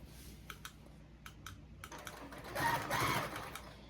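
A quilting sewing machine on a Grace Qzone queen quilt frame lowers its needle, giving a few faint, sharp clicks before a louder mechanical whir builds near the end.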